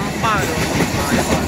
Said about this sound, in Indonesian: Kayak suara kereta api yang kita di dalam gitu.